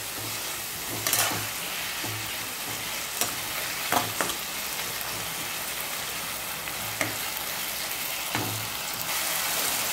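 Onion, tomato, salt and spices fry in a pan for a Bengali tangra fish curry, giving a steady close sizzle with repeated scraping stirs and occasional clinks against the pan, with no voices.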